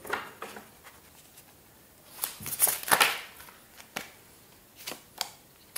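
Tarot cards handled on a table, with soft rustling, a brief shuffle-like flurry and scattered light taps and slides of card stock, close and quiet with no talking.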